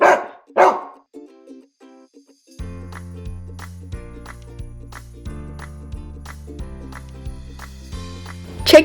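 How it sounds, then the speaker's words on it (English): A dog barks twice in quick succession, sharp and close, then a bouncy music track with a tinkling melody plays with no barking. "Wow, I love dogs."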